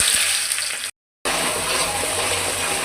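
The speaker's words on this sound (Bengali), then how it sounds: "এখন দিয়ে দেবো পেঁয়াজ।" Onions frying in oil with cardamom and cinnamon in a pan, the start of a potato and beef tripe curry; a steady close sizzle that cuts out briefly, then resumes as loud as before.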